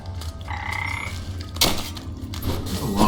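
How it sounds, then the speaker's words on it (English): Frogs croak in the Wytchwood video game, a few loud near calls rising over a low steady ambient hum, with a bright clatter midway and no speech. "There's a lot of frogs down here."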